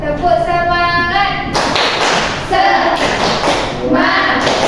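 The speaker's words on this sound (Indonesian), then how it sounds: "Kita tepuk semangat." Indonesian elementary schoolchildren doing the rhythmic 'tepuk semangat' spirit clap together in class: bursts of dull, thudding group claps in short patterned runs, with chanting voices between and over them.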